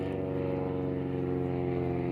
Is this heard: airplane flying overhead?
yes